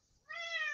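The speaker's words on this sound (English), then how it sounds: "My loud, annoying cat just walked in" A domestic cat lets out a single short meow, fairly quiet and close, in an otherwise still indoor room.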